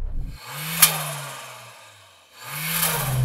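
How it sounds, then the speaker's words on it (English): A turbocharged Suzuki Jimny engine revs twice, each rev rising sharply from idle to a loud, close roar before falling away, with a brief quieter dip between. "So I am going to rev up this Jimny."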